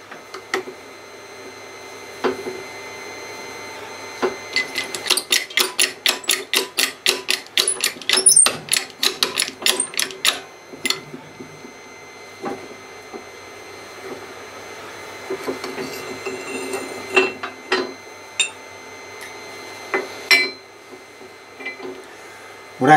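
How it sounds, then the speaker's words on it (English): A bearing is pressed out of a golf buggy part in a workshop, giving a close run of rapid, regular clicking ratchets followed by scattered knocks and scrapes of metal. "press this bearing out"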